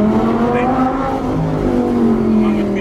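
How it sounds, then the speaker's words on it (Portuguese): Audi R8 engine blipping and downshifting, a loud, close, continuous snarl with rising and falling revs, no voices over it. "Meu amigo, que barulho de reduzida é esse,"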